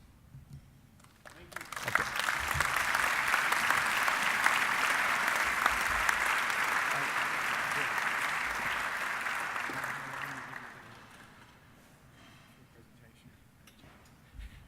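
An audience at an award ceremony for a lifetime achievement award breaks into a long round of applause, swelling quickly, holding steady for several seconds, then fading out to near quiet.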